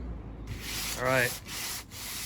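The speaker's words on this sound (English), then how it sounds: "I'll get the sanding block on it." Sanding block rubbing fresh paint on the front end of a 1985 C4 Corvette, a few close, short scraping strokes in a row, with a brief squeak in the middle.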